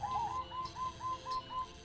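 A caged perkutut (zebra dove) coos in a soft repeating series of short mellow notes, about five evenly spaced calls, fairly faint against a quiet room hum.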